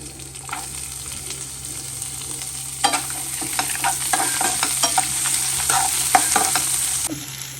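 Vegetables and dried red chillies sizzling in hot oil while a spoon scrapes and stirs the pan in repeated strokes, close and fairly loud.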